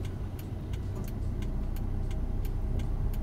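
A car engine shudders and rumbles unevenly at low revs with the clutch half engaged, near stalling, with faint rapid ticking, steady and close, no voices.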